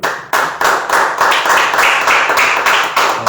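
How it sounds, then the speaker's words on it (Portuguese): Rhythmic hand clapping at a church worship service, steady claps about three per second, close and loud with no talking over them. "as palmas exaltam ao Senhor Jesus."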